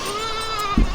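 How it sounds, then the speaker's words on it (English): Backyard goats bleat at evening feeding time, a sustained wavering nasal cry close by, ending with a soft thump of movement. "Sorry about the goats, guys. It is evening feeding time."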